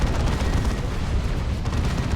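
Heavy weapon fire from lascannons in the Warhammer 40,000 strategy game Dawn of War 2, a dense, loud wash of blasts and rumbling battle noise that continues without pause.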